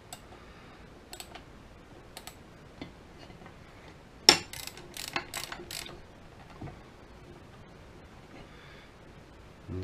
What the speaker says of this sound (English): let me get a socket wrench, a ratchet wrench.